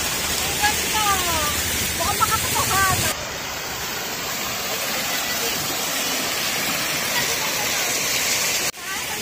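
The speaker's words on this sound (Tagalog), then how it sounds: "ito po yung waterfalls ng Summit ReSOrT" A resort waterfall in Taichung, Taiwan roars as a steady broadband rush of falling water, loud and continuous. Faint voices surface briefly near the start.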